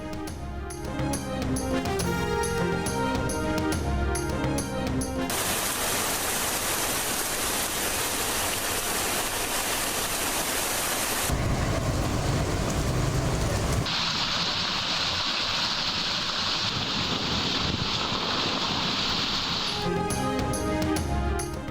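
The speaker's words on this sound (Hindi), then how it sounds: "मुख्तलिफ इलाकों में भी गरज चमक के साथ बारिश।" Monsoon rain pours during a thunderstorm in Karachi, a dense steady hiss across several shots, framed by a music bed at the start and end.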